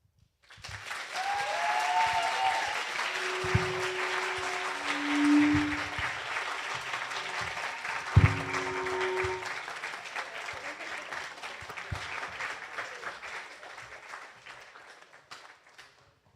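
An audience at a business plan pitch competition final applauds after a team's presentation, a long steady round of clapping that swells, then gradually fades away, with a few voices mixed in.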